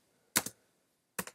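Two short bursts of computer keyboard typing, each a quick double tap, entering a serial-port command on a Raspberry Pi setup; close and crisp with silence between them.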